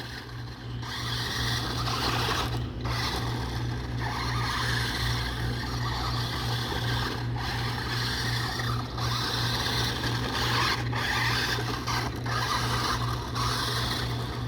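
RC monster truck drives over rocks with a continuous close motor whine, crunching and rattling as it climbs, and a few brief dips in the noise throughout.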